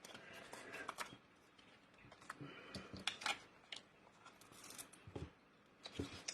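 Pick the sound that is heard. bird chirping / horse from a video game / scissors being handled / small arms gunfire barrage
scissors being handled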